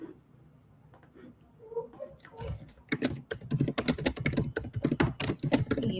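Rapid computer keyboard typing while customer ID and name fields are entered into an Excel sheet, sparse at first then dense and loud, with a soft voice faintly underneath.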